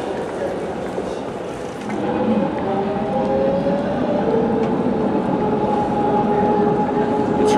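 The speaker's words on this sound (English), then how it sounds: "And here comes the tram." A low rumbling tram rolls past on Leidsestraat, Amsterdam, at rush hour, with steady, rising noise and faint tonal squeal, amid busy street ambience.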